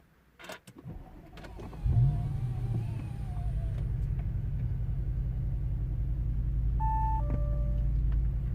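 An Audi S7 engine cranks and catches, then settles into a steady, loud low idle rumble, with a short electronic chime or beep partway through.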